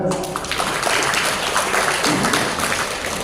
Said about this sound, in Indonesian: Yuk beri tepukan.